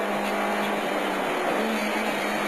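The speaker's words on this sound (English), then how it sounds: "the newly built car is sounding a bit off down in power" A freshly built Mark 2 Ford Escort rally car running down on power during a 2004 Carlow stage rally, its engine a steady, close, continuous roar that holds at one level throughout.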